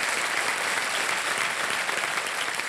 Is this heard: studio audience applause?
yes